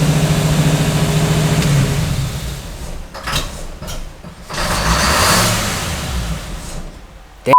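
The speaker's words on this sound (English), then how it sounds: "Let's see if it diesels." A 1965 Cadillac engine with a newly fitted carburetor idles loudly and then winds down as it is switched off, sputtering unevenly for a few seconds before a brief swell and a sharp click at the end.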